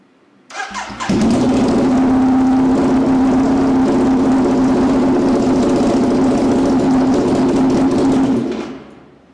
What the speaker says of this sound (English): Now we're going to start the bike to see what it would sound like with the GP exhaust.